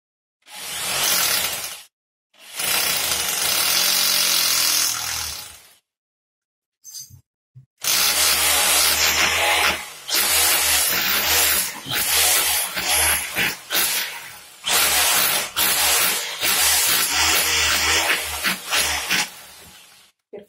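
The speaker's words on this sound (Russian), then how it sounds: "Перфоратор вот такой у меня Makita." A Makita rotary hammer drills into a wall with a 4 mm bit, harsh loud grinding bursts that start and stop repeatedly, with a long stretch of continuous drilling after a short pause.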